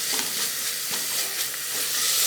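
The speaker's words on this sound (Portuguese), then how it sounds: "E vamos refogar por uns 2 minutos também." Beef tongue pieces sautéing in a pan give a steady broadband sizzle with faint stirring scrapes, close and continuous, with no voices.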